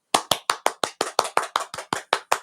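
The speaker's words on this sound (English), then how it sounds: "let's give a warm welcome and round of applause for my friend" A single pair of hands claps about a dozen times in an even, brisk rhythm to welcome a guest. Each clap is crisp and close, with brief silence between them and no voices.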